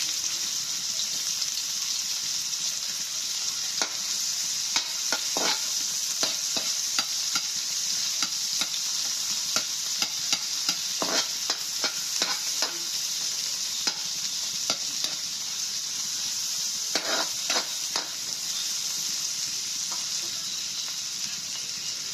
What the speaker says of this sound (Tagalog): Ika-caramelize yung sibuyas.